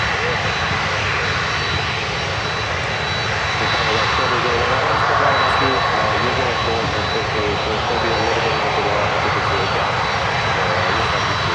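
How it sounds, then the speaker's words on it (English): A Cathay Pacific Boeing 747 comes in to land on runway 9, its jet engines giving a loud, steady roar that builds slightly and holds throughout, close and continuous, with faint talk in the background. "it looks like there's a 747 coming in, and that's Cathay Pacific here on runway 9"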